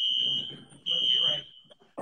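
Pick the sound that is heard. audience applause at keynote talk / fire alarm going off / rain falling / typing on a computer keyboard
fire alarm going off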